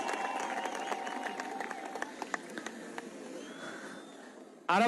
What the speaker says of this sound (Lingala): Je vous prie d'applaudir pour lui.